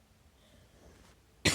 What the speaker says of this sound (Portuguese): eu tô com um pouquinho de tosse